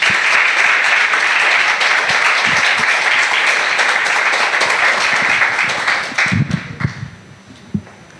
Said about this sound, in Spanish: Vamos a recibir con un aplauso.